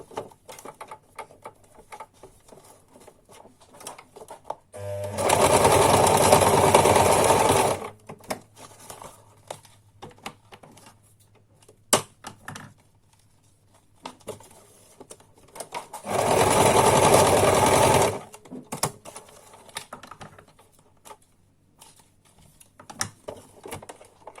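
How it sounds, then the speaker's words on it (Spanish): A sewing machine stitches a plastic cover for a bird cage in two steady buzzing runs of a few seconds each, loud and close, separated by quiet handling sounds, with no talking. "Vamos a coserlo."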